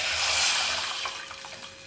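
Water pours into a pan of tomato rasam cooking with ground masala, oil and turmeric, a steady, close rushing splash lasting under two seconds, with no talk.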